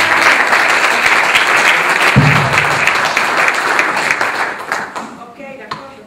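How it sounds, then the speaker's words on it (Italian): An audience breaks into loud, sustained applause, many hands clapping together close by, with a voice briefly heard amid the clapping before it thins out and fades toward the end. "Facciamo un applauso."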